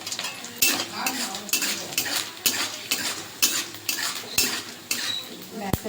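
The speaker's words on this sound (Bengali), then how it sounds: "এখানে যে ভাজা ছোলা এটা আমি নিয়েছি এটাও সেখানে ভেজে নেবো অল্প করে" Chickpeas being stirred and fried in a metal pan, with repeated scraping and clinking strokes of a utensil at an uneven rhythm over a soft, steady sizzle, close up with no talk.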